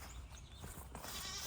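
Goats bleating in a pen, faint calls rising over a quiet background in a brief burst.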